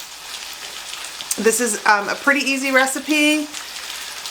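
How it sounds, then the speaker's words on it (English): Chicken fries in a cast iron skillet with a steady sizzle hissing in the background while a person talks over it close to the microphone. "You can hear that sizzling in the background because I'm getting it ready for the recipe"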